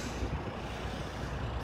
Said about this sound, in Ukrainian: Так, це тормоза.